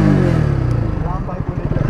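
A Pulsar NS200 motorcycle revs before a drag race, a loud, close, throbbing engine note whose pulses quicken toward the end while someone talks over it.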